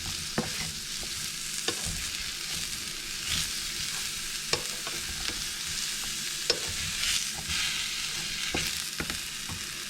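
Mushrooms frying in an oiled pan as it heats, a steady bright sizzle with occasional scrapes and taps of a utensil stirring them, close and continuous with no voices.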